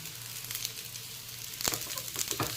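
Potatoes coated with dry red chili, turmeric and coriander-cumin powder are stirred in a hot frying pan, giving a continuous sizzle broken by a few scraping, clinking strokes of the spoon.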